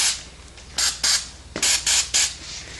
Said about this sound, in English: this is brake cleaner. Spraying it on the end of the axle shaft for the sector roller